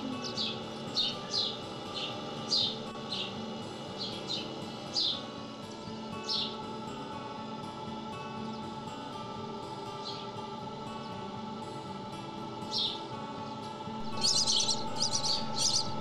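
Young birds at a wildlife rehabilitation centre give repeated high, thin chirps in short bursts, with a denser, louder cluster of calls near the end over steady low background noise.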